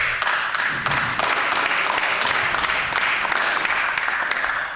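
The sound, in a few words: clapping in the Manitoba legislative chamber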